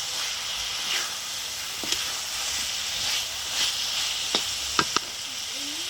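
Water poured into fried masala for a Tengra fish curry brings a broad, steady sizzling hiss that lingers, with a few faint clicks from the pan near the end.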